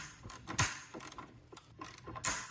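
A ratchet clicks back and forth in short bursts, gritty and scraping as a stubborn rusty bolt turns on a 2004 Honda Accord during A/C compressor replacement, close up with no talking.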